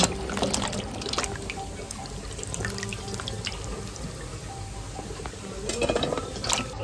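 Okra being washed under running tap water, with a steady trickle and splashing close by and louder splashes near the start and end.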